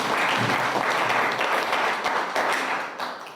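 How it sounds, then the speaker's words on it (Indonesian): A classroom audience applauds a student group's presentation: loud, dense, close clapping from many hands runs steadily throughout, easing slightly near the end. "Beri tepuk tangan untuk kalian masing-masing."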